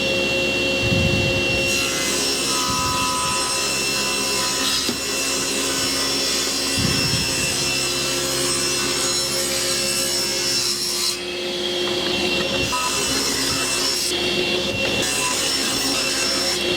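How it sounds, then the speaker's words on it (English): A saw cutting strips of wood, a loud, continuous rasping cut that runs steadily throughout with brief shifts in tone, no voices. "let's cut some strips"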